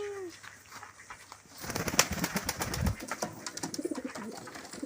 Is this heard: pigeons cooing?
yes